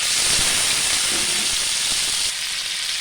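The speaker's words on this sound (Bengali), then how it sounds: "তেল গরম হয়ে গেছে, এবার আমি এতে ছোট দুটো টমেটো কুচি দিয়ে দিলাম।" Chopped tomatoes frying in hot oil, a steady close hiss of sizzling with a few soft knocks, level throughout and no voices.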